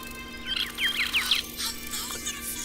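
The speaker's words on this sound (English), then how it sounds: "That is the prettiest bird I have ever..." Chirping calls from a bird in an animated fantasy show ring out in a quick series of bright, rising tweets over a low steady hum, with no talking.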